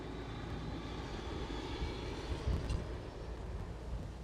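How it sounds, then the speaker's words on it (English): An Emirates Boeing 777 airliner at Schiphol, Amsterdam, producing a steady, moderately distant engine roar that swells slightly midway, heard alone without voices. "Emirates 777"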